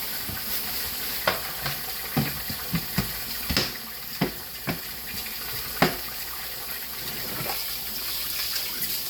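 Kitchen tap water runs into a sink while rice is rinsed by hand, a continuous splashing hiss broken by irregular clicks and knocks from the pot, fairly close.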